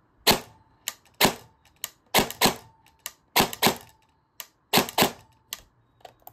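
An FN SCAR rifle fired on semi-auto with foam in the setup: sharp individual shots, some spaced and some in quick pairs or triples, each cracking loudly and decaying fast, about eighteen shots with no talking.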